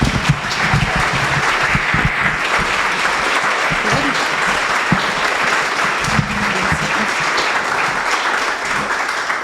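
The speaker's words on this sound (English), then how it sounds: "Please, let's give the panel another giant round of applause." Sustained applause from a town hall audience, honoring a panel, loud and steady for the full stretch, with scattered voices and cheers mixed into the dense clapping.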